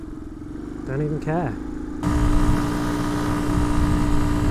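Dirt motorcycle pulling away in third gear on an off-road field, engine note rising sharply into a loud, steady drone after a brief spoken remark over a lower idle.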